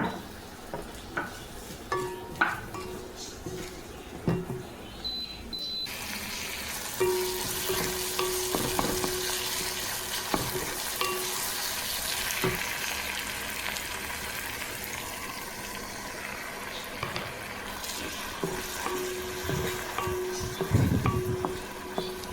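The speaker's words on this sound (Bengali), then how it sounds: "এখানে পেঁয়াজটা ভালো করে কষে নিয়ে, মানে আধ ভাজা হয়ে যেতে, তারপরে টমেটোটা দিয়ে দিয়েছি" Onion and tomato sautéing in a pan for ghugni, a steady close sizzle and fry with occasional stirring clinks and scrapes of a utensil against the pan, continuous throughout with no talk.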